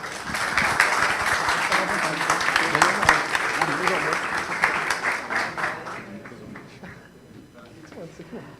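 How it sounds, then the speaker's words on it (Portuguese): Audience applause following a software testing talk, a dense steady burst of many hands clapping that gradually thins and fades toward the end, with a few voices emerging as it dies down. "Uma salva de palmas para o Git."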